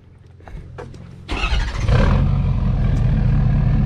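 A truck engine cranks briefly, then catches and roars to life, settling into a loud, rumbling idle close by.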